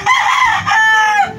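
A white Kelso rooster crows once, close and loud, a drawn-out two-part cock-a-doodle-doo lasting just over a second.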